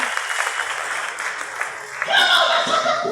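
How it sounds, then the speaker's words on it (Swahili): A church congregation claps for Jesus during a sermon, a burst of applause swelling in near the end after a stretch of softer crowd noise and voices. "Nimesema tupigie Yesu ambao tunamjua makofi mazuri ya juu."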